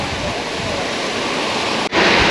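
A waterfall roars as broadband, steady rushing water close by, with a brief dropout near the end before the noise returns.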